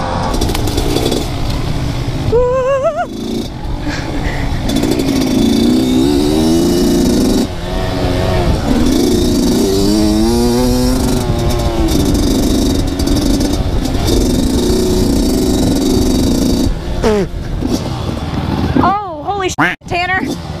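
A worn, overheating two-stroke KTM dirt bike revs loudly and close during a forest trail ride, its engine rising and falling in pitch throughout, with other engines and voices mixed in.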